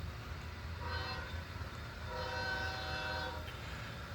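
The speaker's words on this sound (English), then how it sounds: "So one thing I think we can all appreciate is a swift response to commands, especially when it comes to a horn." An Athearn Genesis ES44AC model locomotive sounds its horn in two short chord blasts, the second longer, crisp and near over a steady low engine rumble with no talk.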